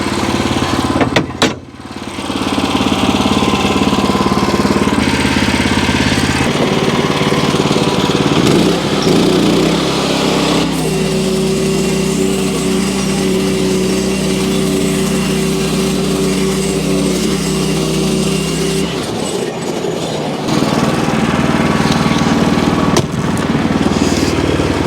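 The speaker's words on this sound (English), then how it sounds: "Let's run the sawmill." A Wood-Mizer LX25 sawmill runs loud and steady outdoors, its engine droning continuously with a shift in load partway through and a brief drop near the end.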